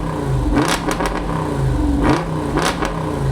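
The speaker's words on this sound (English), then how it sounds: "Every time I rev this thing, people look around like they're looking for like a Challenger or a Hellcat." A Chevrolet Corvette ZR1X engine revs loudly in several sharp blips, deep rumbling surges rising and falling with a crackle between, heard close with no talking.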